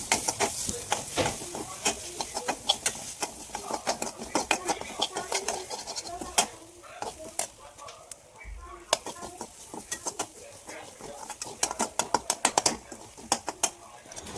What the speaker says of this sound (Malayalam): ഇനിയിപ്പം നമ്മൾ വെളിച്ചെണ്ണ ഒഴിക്കുക, കടുക് പൊട്ടിക്കുക, അതിനകത്തിട്ട് 2-3 ഇളക്കുക.